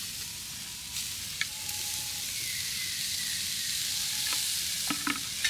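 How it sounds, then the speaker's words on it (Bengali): Grated coconut sizzles and scrapes in a hot wok while being stirred for a palm-fruit pitha filling, a close, steady frying hiss with light spoon clicks and no talking. "তার জন্য প্রথমে কড়াইতে দিয়ে দিচ্ছি নারকেল।"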